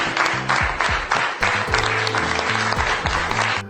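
A cabinet of government ministers applauding, brisk clapping heard close and loud with a musical backing underneath, rhythmic and sustained for a few seconds.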